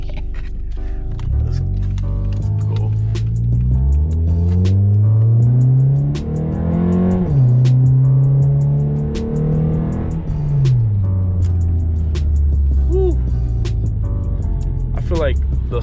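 A 2009–14 Acura TSX (CU2) with a stock catalytic converter accelerates hard in sport mode. The engine note climbs loudly and closely through the gears, dropping briefly at the shifts.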